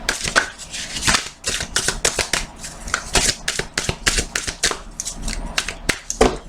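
Tarot cards being shuffled and cut by hand, a rapid run of crisp riffling flicks and snaps that repeats in bursts with short gaps, close and fairly loud, with no talking.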